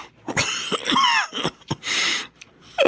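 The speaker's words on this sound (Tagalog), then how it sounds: "Hirap na ako sa ubo ko." A sick person with several days of fever, home alone, coughing hard in a run of harsh, wet bursts and throaty rasps, loud and close with no talk over it.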